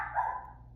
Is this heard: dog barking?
yes